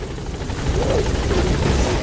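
Helicopter in the video game Metal Gear Solid V, a loud, steady rotor whir with rapid blade chop and engine drone filling the moment close by.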